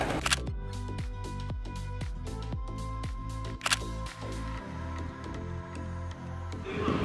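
A Canon EOS R5 fires a rapid burst of shutter clicks in cold weather, a dense, even run of crisp mechanical snaps close to the mic, with a single louder click partway through and no talking.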